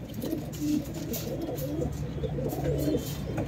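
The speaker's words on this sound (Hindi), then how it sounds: "एक कबूतर ये है" Pigeons kept for sale give soft, low repeated coos close by in a steady murmuring run with no talk.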